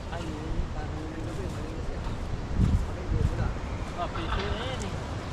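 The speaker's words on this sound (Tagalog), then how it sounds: "Bigla ngayon, lakas hangin." Gusty wind buffets the microphone with low rumbling bursts during bad weather at a beach, while people talk over it outdoors.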